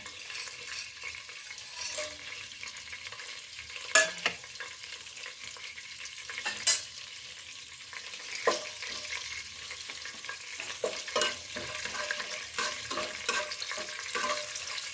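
Whole spices, bay leaf, cardamom and star anise among them, sizzle softly in hot oil for a home biryani, with a quiet steady frying crackle, a few sharp clinks and stirring scrapes near at hand.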